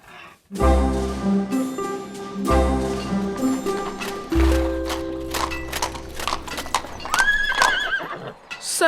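A horse in a 2004 Playmobil video game gives a loud, close whinny, followed by hooves clip-clopping in a rhythmic series alongside bright musical game tones, with no talking.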